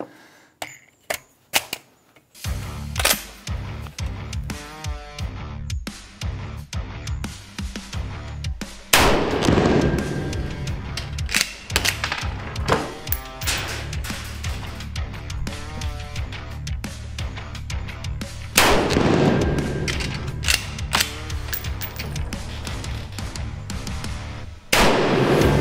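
A Taipan Light shotgun fires at clay targets from close in. Two heavy blasts ring out several seconds apart over a busy backdrop of music and sharp clicks.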